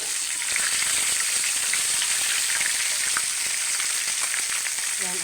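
Fried fish dropped into a pot of bulanglang, giving a steady, dense hiss of sizzling oil with faint crackles, close and even in loudness throughout, with no talking.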